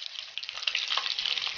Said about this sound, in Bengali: তেল গরম হয়ে গেছে বন্ধুরা, আমি তেলের মধ্যে চপগুলো আস্তে আস্তে ছেড়ে দিচ্ছি